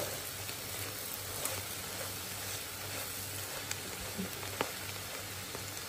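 Steady sizzling and crackling from a hot pan of Sri Lankan clam curry with turmeric, with occasional soft scrapes and clinks of stirring, no voices.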